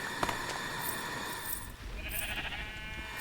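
Sheep bleating in the Minecraft video game, a couple of short bleats over steady game background noise with no talk.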